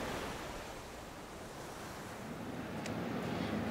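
Ocean waves surge and wash at Tonga Chasm on Niue, a steady broadband roar of surf with wind blowing across the microphone, building slightly louder toward the end with no voices.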